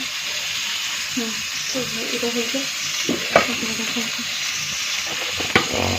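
Food frying in a pan at home, a continuous sizzle with scraping stirs and a couple of sharp utensil clicks, with a voice talking faintly underneath.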